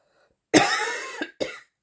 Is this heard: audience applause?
no